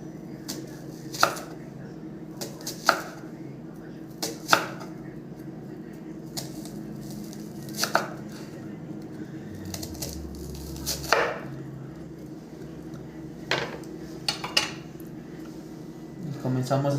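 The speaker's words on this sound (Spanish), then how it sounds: "el siguiente corte que vamos a realizar son aros de cebolla" A knife cuts an onion into rings on a board, sharp individual chops landing every second or two at close range over a low steady background hum.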